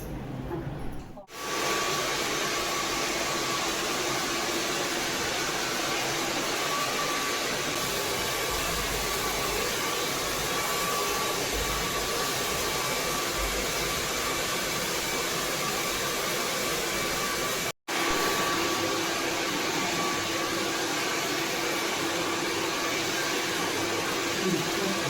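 A hair dryer blows continuously in a salon while hair is dried, a steady broadband whooshing roar that runs nearly unbroken apart from a brief cut-off, close and even.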